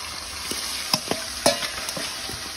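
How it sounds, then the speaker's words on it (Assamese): Fish frying in a wok: a quiet, steady sizzle with a few sharp clatters of stirring or turning, heard up close and without speech. "লাহে মই মাছবিলাক কেৰাহীত দি দিব লাগিব"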